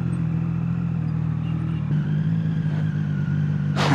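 A Triumph Street Triple motorcycle fitted with a loud SC Project exhaust rumbles with a steady deep drone nearby, shifting pitch partway through before a brief burst of noise at the end.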